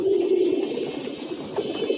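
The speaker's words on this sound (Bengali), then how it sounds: "নর এবং মাদি এবং বাচ্চা সবগুলো কবুতরে খাওয়া দাওয়া করতেছে" Male, female and young pigeons feeding in a loft coo continuously, a dense low burbling chorus heard up close with no talking.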